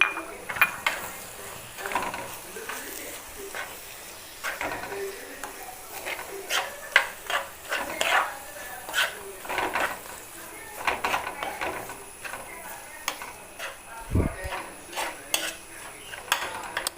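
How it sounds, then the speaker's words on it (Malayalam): A utensil stirs spices into chicken masala in a pan, giving repeated scraping and clinking strokes in an irregular rhythm, fairly close, with a louder knock near the end. "ഈ 3 ഇട്ടിട്ട് ഒന്ന് നല്ല രീതിയിൽ ഒന്ന് ഇളക്കി കൊടുക്കാം"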